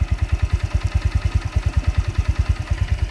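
Old 2013 Honda Vario 125 scooter with original exhaust idling smoothly, a close, even, rapid putter of regular pulses with no rise or fall in speed.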